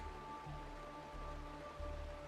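Rain in the Honkai: Star Rail video game falls as a faint, steady hiss, with soft tonal ambience beneath it and no voices.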